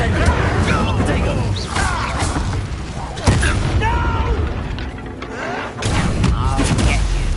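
Hogwarts Legacy combat gives a dense run of magical spell blasts, bursts and whooshes, loud and continuous, while a voice shouts spell names over the action.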